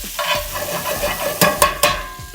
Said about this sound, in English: You want to keep your stirring to allow, 1, to prevent your garlic from burning